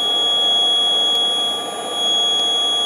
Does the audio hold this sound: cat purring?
no